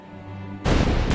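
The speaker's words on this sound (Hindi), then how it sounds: "गोलियां अब भी चल रही थीं" A sudden heavy burst of gunfire during the 26/11 terrorist attack in Mumbai cuts in loudly after a low hum, dense and booming, with a brief second crack near the end.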